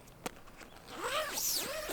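The zipper on a truck awning cover is pulled open, a close, scratchy zip rasping in a couple of sweeping strokes after a single soft knock.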